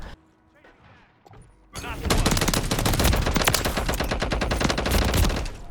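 Gunfire from a weapon in the video game Modern Warfare III bursts in after a quiet start and then hammers on as loud, rapid automatic fire until the end.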